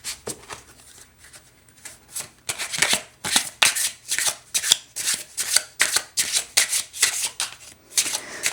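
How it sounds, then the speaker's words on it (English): Playing cards riffle and snap in repeated rapid bursts, two decks stacked together being shuffled over and over close by, with no talking. "Wow, I can't shuffle these two decks."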